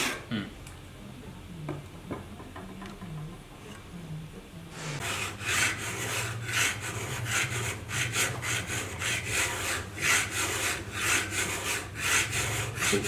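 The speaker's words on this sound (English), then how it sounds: "You can feel the file. Doing this work." A metal file rasps across the edge of a steel cabinet scraper in quick, rhythmic strokes, close and distinct, following a few quieter scraping sounds at the start.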